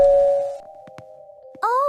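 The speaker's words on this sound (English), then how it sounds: "Oh, I hear the doorbell." Doorbell giving a clear two-tone ding-dong, the first tone ringing out long and fading, then a second brighter chime starting at the end, with brief noises between.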